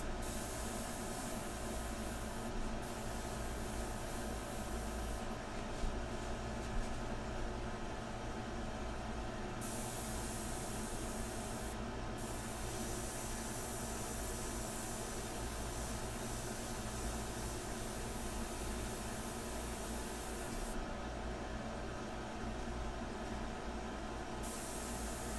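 A Sotar Slim 2020 airbrush spraying India ink for painting, a continuous broad airy hiss lasting the whole stretch, steady and close with brief breaks in the highest hiss and no talk.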